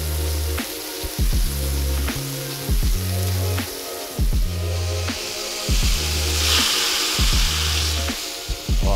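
Venison bulgogi stir-frying in a hot pan, a loud close sizzle broken by repeated bursts of heavier frying and scraping as the meat is tossed.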